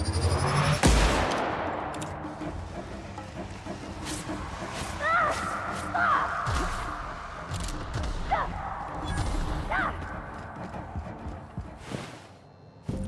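Gunfire in the video game The Outer Worlds, with repeated bursts and scattered shots from a firefight running through a noisy in-game battle, joined by brief character voice lines over a dense background.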